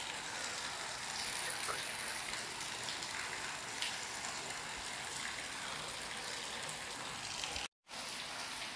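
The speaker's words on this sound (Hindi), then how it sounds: "देखिए बारिश हो रही है।" Steady broadband hiss of rain falling outdoors on a rainy day, continuous and fairly loud throughout with one abrupt dropout near the end.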